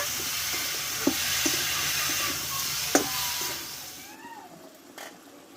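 Sugar is stirred into a Bengali-style sweet and sour carrot pickle cooking in a pan, giving a steady close sizzle with a few light utensil knocks before it quiets.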